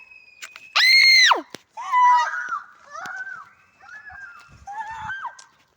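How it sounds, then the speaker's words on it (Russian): Children shrieking and squealing outdoors near a rope swing: one loud, sustained high-pitched scream, then several shorter rising and falling squeals that are quieter and spaced apart. "Они там кричат."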